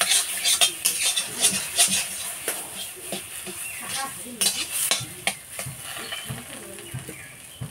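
Taro and cumin paste are stirred in a frying pan, with rhythmic scraping and clanking of a metal spatula against the pan over a soft sizzle and a faint voice murmuring underneath.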